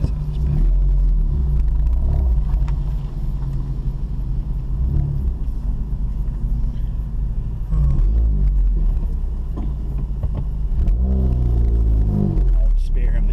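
A Volkswagen Golf R Mk7 engine revs and drops through gear changes, loud close-up interior rumble with pitch rising, falling, then climbing again near the end, under occasional talk.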